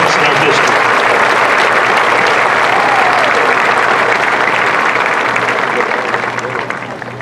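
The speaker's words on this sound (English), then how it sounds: "Please join me in applauding these individuals" A high school graduation audience at Pickens High School breaks into loud, dense applause that holds steady, then gradually tapers off at the end.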